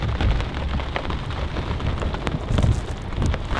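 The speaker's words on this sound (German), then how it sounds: "jetzt ist das Gewitter da und es regnet wie aus Eimern" Heavy rain drums steadily on a tent during a thunderstorm, a dense, close patter with swelling gusts of louder downpour and faint low rumbles, no voices.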